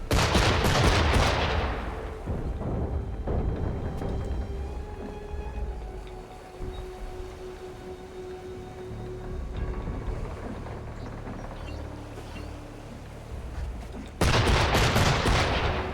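Cannons fire in Assassin's Creed III. Loud booming blasts open and close the passage, with lighter gunfire crackle and a rumbling battle ambience between them. Nobody talks.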